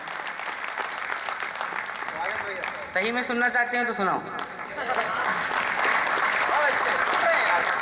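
Applause from an audience at an Indian poetry recital and mushaira, a steady wash of clapping throughout, briefly interrupted by someone speaking into a microphone before the clapping swells again.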